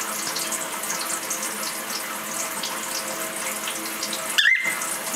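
Tap water runs steadily for a pet cockatiel's shower, a constant hiss with a brief bird chirp near the end, no talking.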